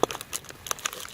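A food pouch of chili is folded over at a camp cook setup in the rain, giving a short, close burst of plastic crinkling and rustling, loud at the start and then scattered lighter crackles.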